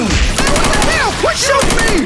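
Rapid automatic gunfire in Left 4 Dead 2, a dense continuous burst of shots close and loud, layered with chaotic game effects.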